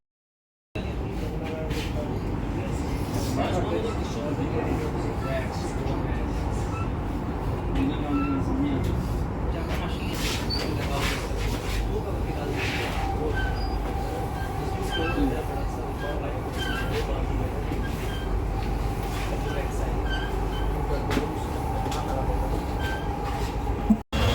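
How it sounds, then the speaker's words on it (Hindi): A Delhi metro train pulls into a station with a continuous low rumble and rolling hum that holds steady for over twenty seconds, some squeal and clatter on top, while people talk over it. "बात करते करते ऐसे मेट्रो भी आ गई"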